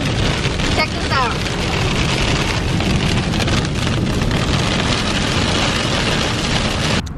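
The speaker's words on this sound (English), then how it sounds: "it's raining so hard right now." Heavy rain pounding down in the Arizona desert, a loud, dense, continuous roar of drops hitting surfaces close by, with a brief faint higher-pitched squeak early on.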